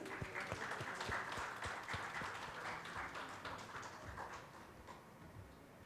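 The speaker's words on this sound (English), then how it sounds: "Let's have a huge round of applause, please." Faint, distant clapping from an audience at an award presentation during an ideas conclave, a steady patter of many hands heard from far off.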